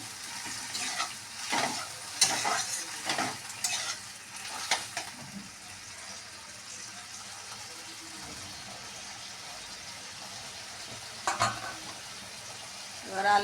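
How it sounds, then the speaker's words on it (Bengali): Chickpeas for a vegetarian ghugni tipped into a pan of fried spice masala and stirred, giving bursts of sizzling and scraping in the first seconds, then a quieter steady fry with another short stirring burst near the end. "কষানো হয়ে গেছে, এবার আমি ছোলাগুলোকে ঢেলে দিচ্ছি।"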